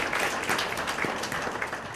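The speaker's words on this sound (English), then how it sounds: "how about we give a round of applause" Audience applause at a roadshow event, a dense, continuous round of clapping from many hands filling the room without talk.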